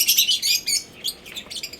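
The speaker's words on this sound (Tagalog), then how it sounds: "naririnig niyo yung mga huni ng ibon" Lovebirds chirp and tweet in quick, bright bursts, a busy overlapping chatter of small parrots kept as pets, fairly close and steady throughout with no talking.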